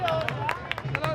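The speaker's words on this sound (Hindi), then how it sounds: "जिसने बुला रखा उसके लिए तालियां बजा दो यार।" Wedding guests clap for the host at a Hindu wedding celebration, a short burst of scattered handclaps mixed with crowd murmur and a voice speaking over them.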